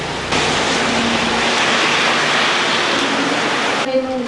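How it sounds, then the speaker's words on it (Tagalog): Heavy typhoon rain and strong wind in Isabela pour down as a dense, steady, loud wash of noise, ending abruptly before a brief quieter moment. "Nagbuhos ito ng malakas na ulan kasabay ang malakas na hangin"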